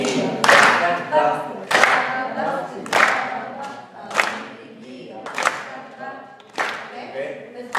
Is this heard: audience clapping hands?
yes